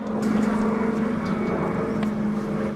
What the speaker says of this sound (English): The event started with a flyover from the Miss Montana C-47.